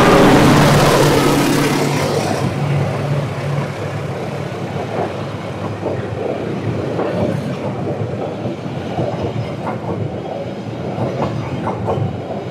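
A train rumbles past on a curve with rhythmic clickety-clack of wheels on rails, a loud approach fading into a steady rolling clatter, no talking.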